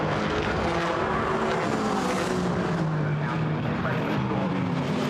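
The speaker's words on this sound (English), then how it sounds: "Hard on the brakes, through the hairpin." GT4 race cars brake hard into the hairpin at Brands Hatch, a continuous loud engine roar with downshifting and tyre noise, under commentary.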